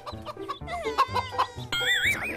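A chicken clucks and squawks up close in a series of short, varied calls, heard in a Chinese kung fu television drama scene with no talking.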